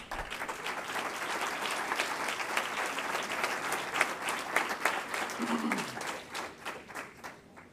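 Sustained audience clapping at an entrepreneurship awards ceremony as honorees collect their distinction. It is moderately loud, with distinct individual claps, and a short voice comes through partway in.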